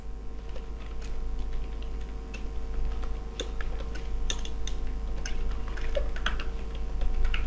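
Scattered light keystrokes on a computer keyboard while text about SEO techniques is typed, soft irregular clicks over a steady low hum in a quiet room.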